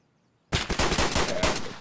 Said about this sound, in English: Someone's in here shooting.